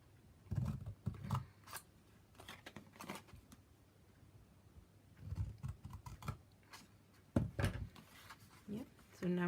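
Scissors snip through scored cardstock for a Stampin' Up! card holder in a series of short, close, crisp cuts, grouped in bursts with pauses between, while a person talks quietly.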